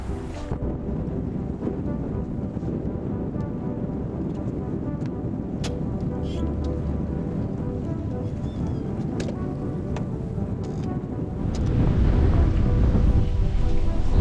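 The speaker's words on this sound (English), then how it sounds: "The wind would not relent." Strong wind on a Florida saltwater river roars steadily, buffeting the microphone with a deep rumble that swells louder near the end, while choppy water churns underneath.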